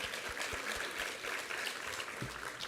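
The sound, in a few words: church congregation applause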